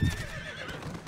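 A horse neighs in a cartoon trailer spoof: one loud whinny that starts strong and falls away in a wavering, descending tremble, heard alone without talk.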